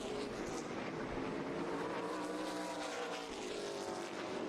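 Stock cars race on an oval racetrack at night, a continuous roar of several engines battling closely, heard at a distance under crowd and track ambience.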